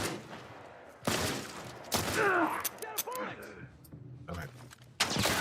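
Gunshots in the video game The Last of Us Part I: a few loud, sharp blasts spaced seconds apart, with someone talking between them.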